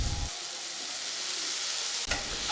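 Tomatoes and onions fry in a pan for chicken kasha, giving a loud, continuous hiss. A stirring scrape and a clatter sound near the start and again toward the end.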